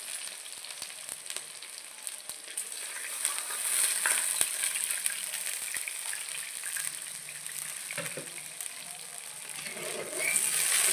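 Potatoes fried with ginger sizzle in a hot pan with a steady crackle and spatter, then water goes into the pan and the hiss briefly surges before settling again.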